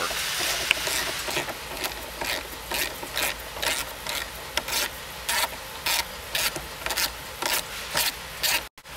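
A ratchet wrench clicks in quick repeated bursts while nuts and bolts are taken off a car's tunnel plate, the rhythmic metallic ratcheting close and fairly loud, ending with a clunk.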